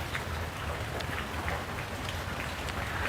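Rain pours steadily outdoors, a dense, even hiss of drops on surfaces that holds at the same moderate level throughout, with no voices over it.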